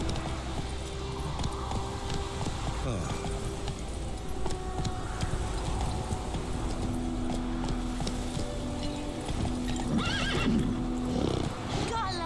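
Geralt's horse Roach from The Witcher 3 whinnies loudly, snorting and neighing, while hooves clatter at a trot nearby; a voice speaks over parts of it.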